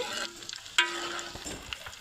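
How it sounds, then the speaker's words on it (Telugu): Chopped chilli and garlic tempering frying in a pan for an Andhra-style ripe chilli tomato chutney, a soft continuous sizzle with stirring scrapes and light clinks, no voices. "తాలింపు మంచిగా ఫ్రై అవ్వాలండి అప్పుడు తాలింపు మంచి స్మెల్ వస్తుంది"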